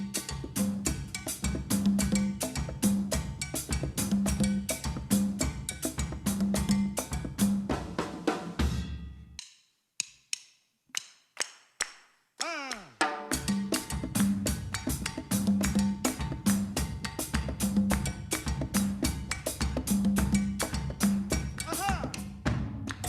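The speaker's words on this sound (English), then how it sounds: "Very infectious rhythm known as compas or compas direct." Haitian compas, also called compas direct, played by a band with cowbell. A steady, dense, danceable groove with a repeated cowbell pattern. About halfway through there is a short break with a few sparse hits before the full groove returns.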